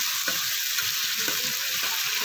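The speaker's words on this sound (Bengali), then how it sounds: "ডিম দেওয়ার পরে কিছুটা নেড়ে ছেড়ে নিলাম" Egg korma being stirred in a pan just after the eggs go in, a steady close sizzle with soft, repeated scraping strokes and no talking.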